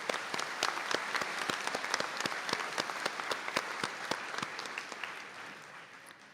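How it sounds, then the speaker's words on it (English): A conferring ceremony audience gives a round of applause for graduates receiving degrees in absentia, dense steady clapping with sharp individual claps standing out, holding for about six seconds and tapering slightly at the end. "if you could please give them a round of applause"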